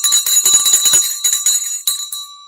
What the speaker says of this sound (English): Just a simple little bell.